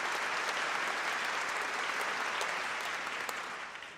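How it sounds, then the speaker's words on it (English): A clap button on a livestream sets off a steady wash of crowd applause, many hands clapping densely for several seconds before it gradually fades. "Clap button works."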